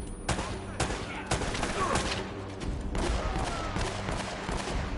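Heavy gunfire from an enemy's big, powerful gun in the Uncharted video game, loud bursts of shots cracking repeatedly across the clip over a dense battle backdrop.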